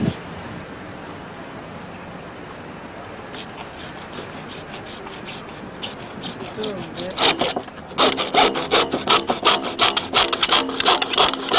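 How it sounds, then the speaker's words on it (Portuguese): A hacksaw cuts plastic drain pipes for a sewer line, starting faint and sparse, then rising after a few seconds into a steady run of loud, rapid back-and-forth rasping strokes close by. "Com o arco de serra, você vai serrar os tubos no tamanho certo."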